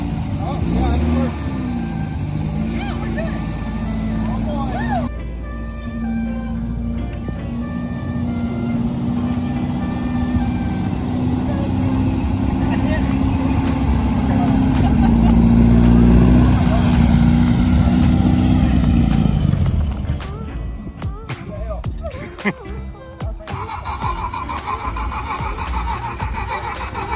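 A diesel ramp truck engine pulling in first gear, a loud, steady low rumble that swells for about fifteen seconds, then drops away to quieter mechanical clunks and rattles, with people talking over it.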